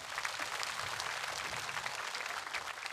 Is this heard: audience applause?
yes